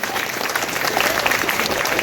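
A crowd at a wedding-style ceremony during a Shivadeepotsava festival gathering applauds the couple. The applause is dense and continuous, loud and close throughout the short stretch, with no single claps standing out.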